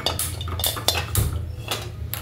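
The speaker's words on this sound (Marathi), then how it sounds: "आपल्याला राईस बनवण्यासाठी पातळ कढई घ्यायची." A thin metal kadhai (wok) is handled on a stovetop while preparing hotel-style Schezwan fried rice. Several close metallic clanks and scrapes ring out over a steady low hum, with no talk.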